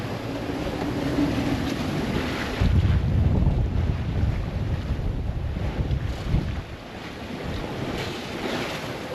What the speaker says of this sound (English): Let me show you what 20 knots of wind looks like out here.